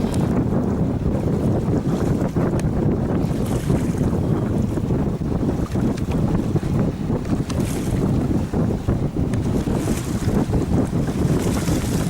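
A sailboat rushes through the water at the start of an ocean race, with steady wind buffeting the microphone and waves splashing along the hull, no voices.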